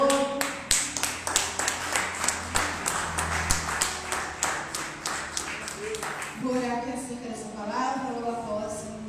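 A congregation in a Portuguese-language church service claps in a steady rhythm along with music for several seconds, then the clapping fades as a voice comes in near the end.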